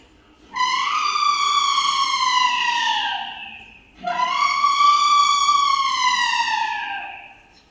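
A human voice imitates elephants trumpeting: two long, high calls with a falling tone, each lasting about three seconds, with a short pause between them.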